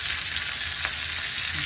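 Olive oil heating in a pan with peppers and vegetables, a steady soft sizzle and frying hiss running evenly throughout at low to moderate level.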